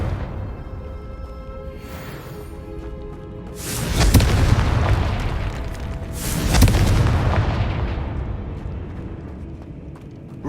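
Two heavy booming blasts from the Confringo fire spell in Hogwarts Legacy, each a loud broadband burst with a long rumbling decay, spaced a few seconds apart over a low game ambience.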